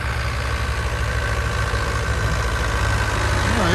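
An all-terrain vehicle's engine runs in deep snow, a low steady idle-like drone with faint knocking vibration, close and continuous, rising slightly at the very end.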